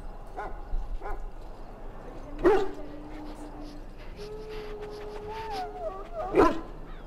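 A wounded dog in the game Dragon Age Origins gives a few short whimpers and yelps, with two louder cries standing out against a quiet ambient background. Voices speak quietly underneath.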